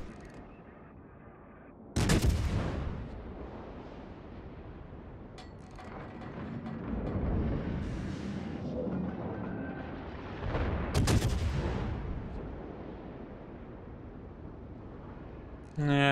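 Heavy naval guns from a Duke of York battleship in World of Warships roar out in two big booming salvos, each followed by a long rumbling tail, with someone talking through the gaps.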